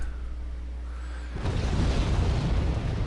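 Mortar shelling in the strategy video game Wargame, striking a Tunguska anti-air vehicle: a deep, heavy explosion bursts in after a quiet stretch and rolls on as a loud, rumbling boom.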